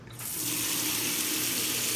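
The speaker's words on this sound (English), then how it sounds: "And we have this very unique faucet." Water gushes from a unique kitchen faucet in a new apartment, starting abruptly and then running in a steady, close hiss with no talking.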